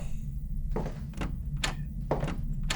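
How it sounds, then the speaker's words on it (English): Repeated knocking on a window in the horror video game Scrutinized, about five dull thuds in an uneven rhythm over a steady low background hum, with no talking. "I definitely heard someone knocking at my windows"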